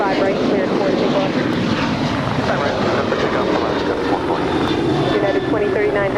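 Steady, loud roar of an airliner's engines during takeoff on runway 25 right at Los Angeles International Airport, a continuous wash of engine noise filling the whole stretch.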